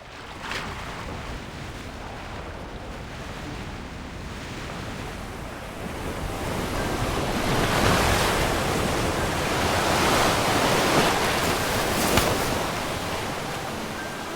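Ocean waves wash on an empty stretch of sea in the Love and Deepspace summer event, a continuous broad surf hiss that swells gradually louder midway and then eases slightly.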